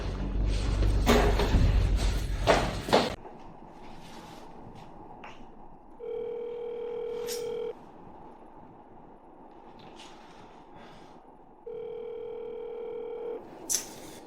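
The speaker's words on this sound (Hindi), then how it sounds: "यह अजीब है, वह फोन क्यों नहीं उठा रहा?" A telephone call rings out unanswered, with two separate bursts of steady ringback tone separated by quiet line noise. A loud, noisy stretch comes before the rings.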